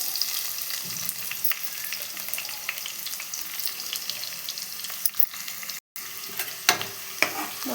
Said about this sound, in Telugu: ఆయిల్లో ఫ్రై చేసుకోవాలి కదా ఆనియన్స్ మొత్తం.